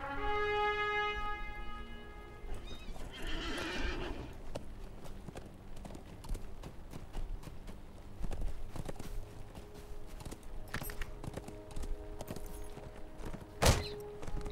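Horse hooves clip-clop steadily in Lord of the Rings Online, with a busy background of game noise, faint crackles and a sharp thump near the end.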